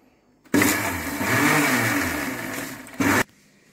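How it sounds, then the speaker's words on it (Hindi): A kitchen mixer grinder whirs loudly for nearly three seconds, blending green leaves with about a glass of water and ice. It starts abruptly, dips slightly mid-run, then gives a brief final pulse before cutting to quiet. "इस मिक्सर में हमने 1 ग्लास के करीब करीब पानी डाल के सारा ग्रीन पत्तियों को हमने पीस लिया है।"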